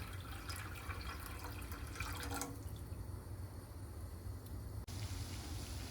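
Tap water runs steadily into a cooking pot in a home kitchen, a soft continuous rush with faint dripping, alone and fairly quiet.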